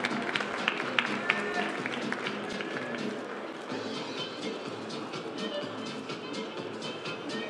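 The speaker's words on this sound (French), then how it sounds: "on applaudit" Sustained audience applause at a French coffee championship, a dense steady wash of clapping from a crowd with a few sharper nearby claps, running throughout with faint voices mixed in.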